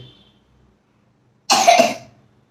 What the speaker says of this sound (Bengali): তখন থেকে দেখছি কাশি হচ্ছে